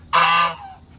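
A goose gives one loud, nasal honk close by outdoors, brief and alone, fading quickly afterward.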